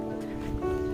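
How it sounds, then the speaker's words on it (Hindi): Steady rain falling in a rural village on a rainy day, a constant close hiss with a low rumbling wash underneath, unbroken for the whole moment, no voices. "बारिश हो रहा है"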